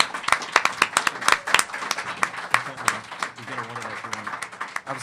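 An audience at a comic book convention panel claps, with sharp, uneven individual claps rather than a dense wash, fading toward the end as a voice begins speaking underneath.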